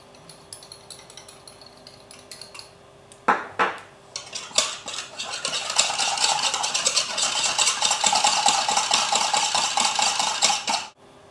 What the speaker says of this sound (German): Gebt die Speisestärke in etwas Wasser und rührt sie glatt.